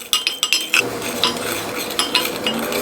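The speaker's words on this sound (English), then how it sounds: "Now we will just stir this up and dissolve it." A spoon stirs sugar into water in a cooking pot, making quick close metallic clinks and scrapes against the pot in a steady, busy rhythm, with no voices.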